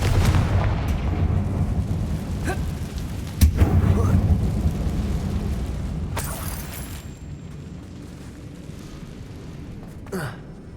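A Confringo fire spell in Hogwarts Legacy bursts with a deep, rumbling explosive boom inside an old mine, followed by a second, softer blast and fading echoes.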